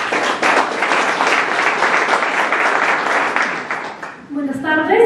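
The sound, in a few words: audience applause at a book presentation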